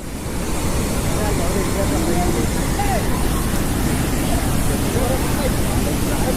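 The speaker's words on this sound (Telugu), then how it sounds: "వాటర్ సౌండ్ అది." Bogota waterfalls roar with a constant, loud rush of falling water that fills the whole scene evenly, with faint speech buried underneath.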